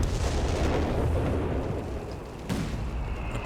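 Sturmpanzer artillery fires in Company of Heroes 3, a loud rumbling blast trailing into a low boom, then a second sharp report near the end, heard alone without talk.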